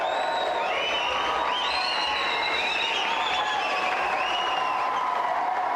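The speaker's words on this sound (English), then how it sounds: "let's have a big round of applause for our winner, Steve" A studio audience applauds and cheers for the winner of a video game show contest, with loud continuous clapping mixed with whoops and shouted cheers that stay steady throughout.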